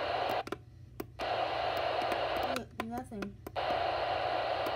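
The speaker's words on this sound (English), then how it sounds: "You just hear static." A weather radio tuned to a dead station hisses with steady broadband static that cuts out briefly twice. A voice speaks over it in the gap, and a few sharp clicks and tones are mixed in.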